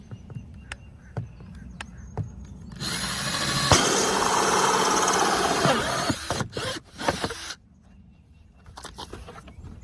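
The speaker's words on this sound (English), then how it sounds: "I put on my hole saw because I'm going to drill ventilation holes" A power drill with a hole saw grinds steadily through a plastic bucket for several seconds, loud and close, with scattered clicks and knocks before and after.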